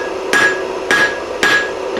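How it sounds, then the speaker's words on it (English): Three sharp, ringing hammer blows on hot steel at an anvil while forging a taper, struck about half a second apart. Each impact is loud and close with a bright metallic ring that decays quickly. "So I extend my tip out over the edge of the anvil, strike"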